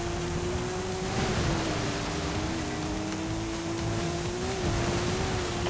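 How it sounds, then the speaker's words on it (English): Car engine in the Forza Horizon 5 racing game, a steady droning hum that holds at an even pitch, rising and dipping slightly, with broad noisy rush underneath throughout, no voices. "this car sounds amazing"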